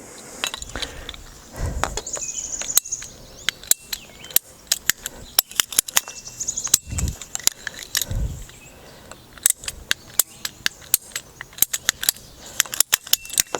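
Half-inch PEX plastic water line being cut into short pieces, with repeated sharp snips and ratcheting clicks from a cutter, plus handling clatter, spaced irregularly and close up.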